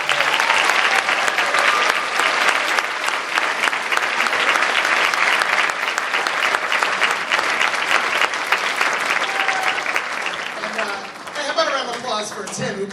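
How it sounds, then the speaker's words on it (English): A school band concert audience breaks into loud, sustained applause for a student, dense clapping and crowd noise filling the room almost continuously, then thinning near the end. "about a round of applause for yourself."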